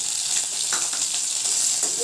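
Bitter gourd pieces sizzle and crackle in a shallow layer of hot oil, a steady close hiss with occasional sharper pops and stirring scrapes.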